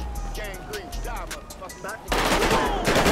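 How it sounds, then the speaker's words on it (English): Police gunfire in the video game GTA 5, a burst of dense rapid shots erupting loudly near the end after a stretch of talking voices, firing continuously at close range. "Oh, they done start shooting."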